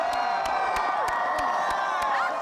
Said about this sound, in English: And as the cheering died down